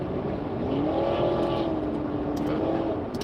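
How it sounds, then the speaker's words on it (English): A loud car passes close by on a night road, its engine and tire roar rising and holding steady with a smooth pitch sweep, while faint voices murmur underneath. "Why do cars have to be loud?"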